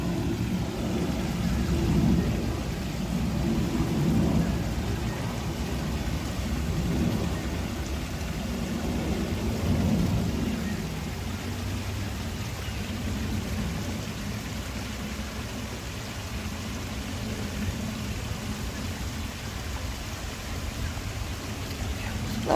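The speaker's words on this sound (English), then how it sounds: "Can you guys hear the water?" A garden stream flows steadily in a continuous broad rushing wash, close and fairly loud, with no breaks across the whole stretch.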